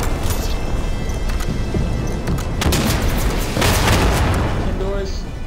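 Heavy artillery shells bursting in the World War II shooter Day of Infamy, a dense wash of deep booms and sharp gunfire cracks under a constant roar, loud and close, with players' voices talking over it.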